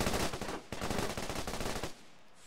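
Rapid, loud automatic gunfire from the shooter game Spectrum during a competitive tournament final, in two dense rattling bursts separated by a brief gap, then stopping abruptly.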